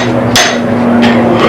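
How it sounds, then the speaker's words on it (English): A blacksmith forges a piece with a hand hammer, two sharp ringing metallic strikes about two-thirds of a second apart over a steady background hum, close and loud. "It's forging something very carefully with this hammer."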